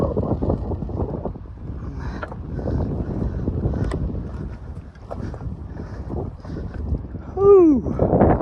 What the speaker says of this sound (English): A little windy here.